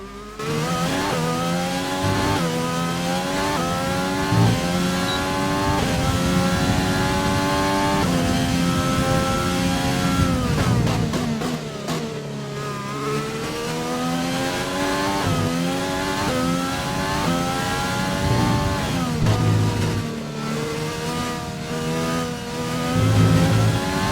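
An F1 race car in the F1 2020 video game roars through a qualifying lap, its engine note climbing and dropping with repeated gear shifts, loud and continuous throughout.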